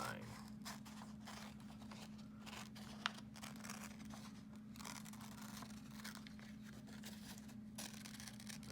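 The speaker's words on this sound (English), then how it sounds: "you're going to very carefully take your time and cut on the line" Scissors cut slowly along the line of a paper pattern, producing quiet, close snipping and scraping strokes with one sharper snip partway through.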